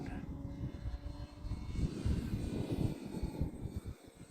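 An Arrows Husky RC plane with a wooden propeller drones overhead at a distance, its engine buzz swelling and rumbling steadily while the aircraft flies through manoeuvres on an evening outing.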